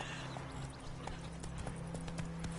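Geralt's horse Roach galloping in The Witcher 3, steady rapid clip-clop hoofbeats at a close, even level over a low game soundtrack hum, with a few sharper hoof strikes standing out.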